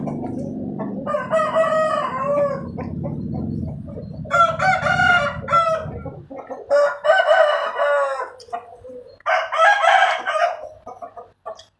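A rooster crows loudly and close by in several long, repeated calls, with chickens clucking between them and a low background hum early on that fades away.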